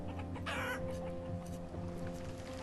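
Chickens cluck faintly in the settlement-building game Banished, with soft clucks over a low steady in-game ambience and one brighter burst early on.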